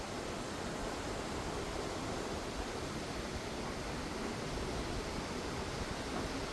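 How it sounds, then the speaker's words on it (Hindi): River water rushing steadily in summer at lower level, a dense, even broadband roar with no breaks, alone and unchanging. "लेकिन यही वो नदी है जो बहा ले गई थी सब कुछ। पानी का आवाज़ देखो कितना"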